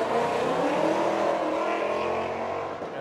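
A Charger car engine at a car meet, a loud steady engine drone with a rising pitch, like revving, holding strong before easing slightly at the end.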